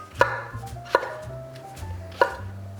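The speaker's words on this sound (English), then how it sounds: "And I'm just doing a rough chop" A kitchen knife rough-chopping mushrooms on a cutting board, three crisp, separate knocks spaced about a second apart, close and clear against quiet background hum.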